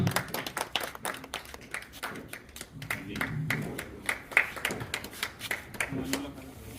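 Scattered hand clapping from an audience at a welcome ceremony where guests are honoured with shawls, uneven and moderately loud, with voices talking over it.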